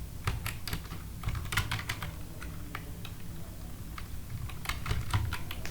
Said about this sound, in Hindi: यहाँ पर आप टाइप कर दीजिए नॉट एप्लीकेबल